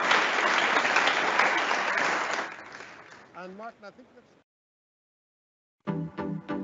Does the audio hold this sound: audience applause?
yes